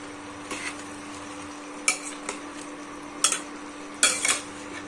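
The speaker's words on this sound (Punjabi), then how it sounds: "ਹੁਣ ਇਸ ਵਿੱਚ ਪਾਵਾਂਗੇ ਕਰੇਲੇ ਕਰੇਲਿਆਂ ਨੂੰ ਫਰਾਈ ਕਰਾਂਗੇ 2 ਤੋਂ 4 ਮਿੰਟ" Bitter gourd (karela) frying in a pan while being stirred, with a steady low sizzle and four or five sharp scraping clinks of a spatula against the metal, close and alone.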